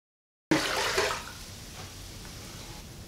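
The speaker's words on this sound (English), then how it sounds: "I'm going to pour in about 6 cups of water." Water poured from a container into a cooking pot of sautéed vegetables for Southern black-eyed peas and collard greens: a sudden loud gush after a short silence, easing after about a second into a steadier, softer splashing trickle.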